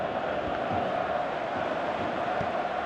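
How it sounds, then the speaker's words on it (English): Stadium crowd noise from a PES 2018 football match, FC Barcelona in the UEFA Champions League, a steady dense roar of many voices holding at an even level throughout. "you can feel and hear how the crowd are reacting to all of this"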